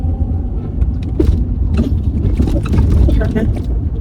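Steady low rumble inside a moving truck, heard from the cab, with scattered clicks and small rattles over the road noise and people's voices mixed in.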